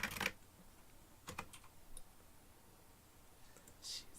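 Computer keyboard typing during a programming lesson, sparse faint key clicks in small clusters with long quiet gaps, heard alone without talk.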